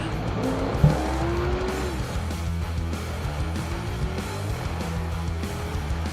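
Late model race car rolling out at Stafford speedway to warm its tires, a steady engine drone with tire squeal and skidding heard from a distance, fairly faint throughout.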